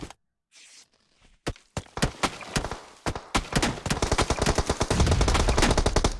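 Automatic gunfire in the battle royale game PUBG Mobile during an esports scrim: after a short lull, isolated sharp shots give way to rapid, dense bursts that build into loud, nearly continuous machine gun fire.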